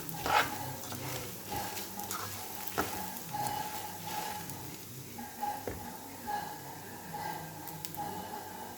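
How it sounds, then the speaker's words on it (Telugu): Peanuts, sesame seeds and garlic frying in a pan, a quiet steady sizzle with occasional spoon scrapes and clinks throughout. "అండ్ సాయిపప్పు, నువ్వులు, వెల్లుల్లి కూడా వేసేసుకుందాం. ఫ్రై చేసుకుందాం మంచిగా."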